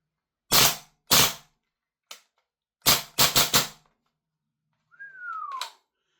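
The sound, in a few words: Umarex VFC G36C gas blowback airsoft rifle firing bursts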